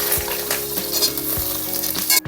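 Eggplant fries in hot mustard oil with black cumin in a wok, a loud, dense sizzle with a few soft stirring scrapes and a sharp clatter near the end.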